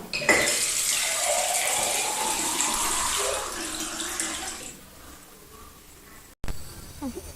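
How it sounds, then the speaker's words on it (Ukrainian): Water gushes close by from a water pump near a dormitory, a steady splashing rush that fades out, then a brief clunk and lighter trickling. "Наберемо воду з крану."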